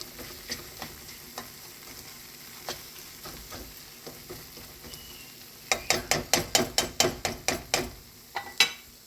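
A spoon stirs chicken and dumplings in a pot of broth with cream, thyme and bay leaves, knocking lightly at first, then a quick run of about a dozen loud, evenly spaced clacks against the pot, with a faint simmer beneath.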